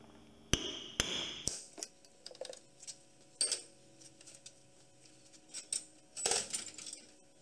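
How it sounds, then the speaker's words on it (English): Sharp metallic taps ring out as a chisel is struck into location marks on a leaking hub, a few close hits scattered unevenly with quieter clicks between. "we'll get our chisel into these little location marks here"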